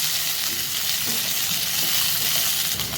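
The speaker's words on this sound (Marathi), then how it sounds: "भाज्या म्हणजे ढोबळी मिरची, शिमला मिरची टाकून घेतली, ती 2 मिनटं परतून घेऊया" Capsicum (bell pepper) pieces sauté in a hot pan for a soybean chilli dish. The sizzle is loud, dense and continuous, with occasional stirring scrapes underneath.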